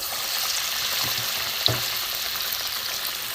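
Bean chops coated in gram flour batter go into hot oil, which hisses in a steady, even bubbling; one soft thud comes as a piece drops into the pan, and no one talks.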